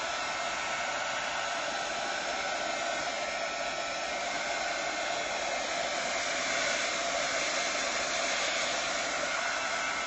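A hair dryer blows steadily for the whole stretch, a loud, close, unbroken hiss with no voices over it.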